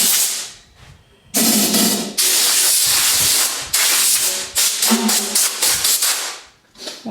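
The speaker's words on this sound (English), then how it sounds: "Now I blow it off because I don't want to get that steel wool dust under the finish." Air is blown hard across a wooden guitar finish to clear steel wool dust, a loud close rushing hiss in several long blasts with short breaks between them.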